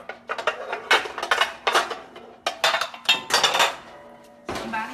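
Metal loaf pan and utensils clattering while cheesy pasta is cut, a string of sharp irregular clanks and scrapes, close and fairly loud with no talk.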